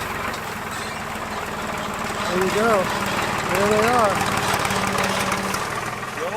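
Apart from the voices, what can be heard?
tractor engine running while clearing timber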